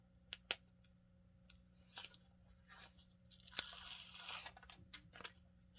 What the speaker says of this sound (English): let me just peel this off and show you